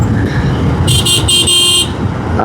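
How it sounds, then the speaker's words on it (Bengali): A bus horn honks in road traffic, several short bright blasts in quick succession over a steady roar of engines and passing vehicles close by. "এই কি আমার সিগন্যাল দিতেছে না বাসের সিগন্যাল দিতেছে"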